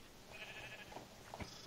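Sheep bleating in a video game minigame, a few short synthetic bleats spread over a second and a half, fairly quiet against a faint background hiss with no talking.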